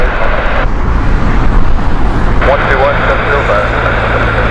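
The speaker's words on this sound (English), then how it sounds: "This is the Airbus A320 Neo, Speedbird" A British Airways Airbus A320neo at Heathrow makes a loud, continuous engine roar and whine close by, with a voice talking over it.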